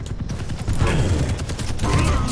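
Rapid, loud gunfire bursts in the video game Quake Champions, a dense fusillade of shotgun blasts layered with game effects, heard close and continuous throughout.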